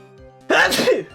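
A single sharp, loud sneeze bursts out close up after a brief quiet lead-in, with a faint tonal hum beforehand.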